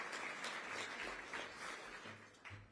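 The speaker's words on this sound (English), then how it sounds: "Can you give yourselves a round of applause?" An audience at a morning politics breakfast event applauds, a dense, fairly faint wash of clapping from many hands heard from a distance.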